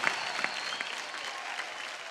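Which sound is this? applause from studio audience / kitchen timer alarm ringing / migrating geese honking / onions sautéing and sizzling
applause from studio audience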